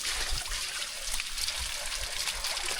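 Water trickles steadily on a farm, a soft continuous dribble with faint low thumps underneath, close and fairly quiet throughout.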